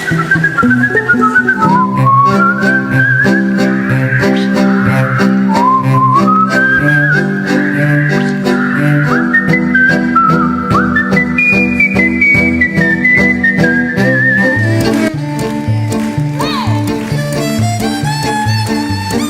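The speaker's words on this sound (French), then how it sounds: "savoir si, dans l'ensemble, vous êtes plutôt, ou plutôt pas, habitué à aller au concert de musique sifflée durant l'année" A melodic whistled tune is performed at a concert, loud and sustained with rising and falling phrases over a steady instrumental accompaniment.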